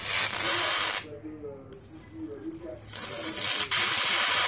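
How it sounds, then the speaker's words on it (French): High-voltage electric arc from a 40 kV supply, a loud dense buzzing crackle that drops away briefly mid-clip and then returns at full strength. "on voit déjà l'arc électrique"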